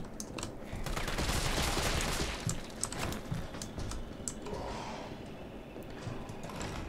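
Handgun shots ring out in the Resident Evil video game, a cluster of sharp, loud bursts followed by further scattered shots and clatter, with no talking.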